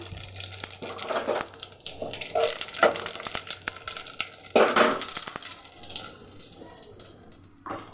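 Cumin seeds hit hot cooking oil in a home kitchen, giving a soft, uneven sizzle with a few brighter spitting bursts, fairly faint and close.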